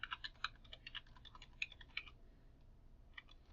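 A search term is typed on a computer keyboard: a quick burst of light, close key clicks in an uneven rhythm, pausing, then a few more taps, quiet and alone.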